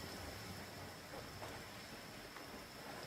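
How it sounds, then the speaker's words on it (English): A steady rain downpour in the video game Genshin Impact, an even, faint wash of hissing drops with no pauses and no voices. "Taking a stroll in the middle of a downpour certainly rouses the spirit."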